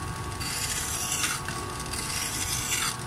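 Steady dry rubbing of 120-grit sandpaper against a car headlight lens, a continuous close abrasive hiss with faint surges as strokes change, no talking over it.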